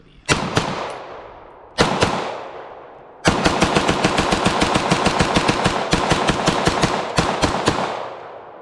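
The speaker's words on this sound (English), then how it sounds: "let's try the full 30 round mag in the SCW." A B+T SCW emptying a full 30-round magazine: two quick shots, a pause, a single shot, then a long, steady string of rapid, loud reports close by.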